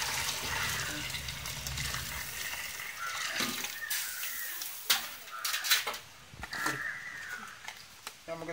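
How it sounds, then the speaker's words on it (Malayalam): Boiling water is poured into a pot to cook rice for egg biryani. A steady rushing, splashing pour comes first, followed by scattered knocks and clatters of the pot and utensils nearby. "തിളച്ച വെള്ളം ഇട്ട്"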